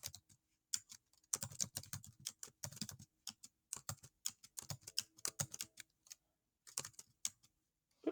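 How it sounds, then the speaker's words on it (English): Close, crisp keystrokes on a computer keyboard as survey data is entered into a spreadsheet, coming in quick irregular bursts with short pauses between them, no talking. "I just type them in alphabetical order"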